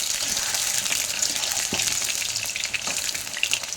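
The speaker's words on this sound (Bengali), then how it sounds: "আমি একটু আলুগুলো ভেজে নেই।" Potatoes frying in oil in a pan for a home chicken curry, giving a steady, fairly loud hiss and crackle throughout with a few brief louder pops, with no talking.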